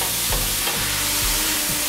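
Minced vegetable sofrito with chopped garlic frying in olive oil in a sauté pan, a steady loud sizzle broken by a few soft stirring scrapes, with no voices.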